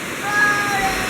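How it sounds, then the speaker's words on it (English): Rainwater rushes and pools on a farm during a rainy day, a steady broadband wash of flowing water, close and continuous, with faint thin tones above it. "The water builds up very, very quickly here."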